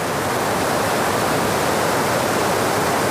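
Rushing floodwater of the Chemmanarai river deep in a Western Ghats forest, a loud, continuous broadband roar with no break or voices.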